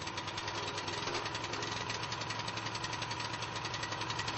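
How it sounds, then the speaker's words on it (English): A petrol engine on a concrete scarifier runs steadily at full throttle, giving a continuous, even mechanical drone with a rapid rhythmic knock throughout and no voices. "When the engine starts, open the throttle and allow the engine to reach full speed."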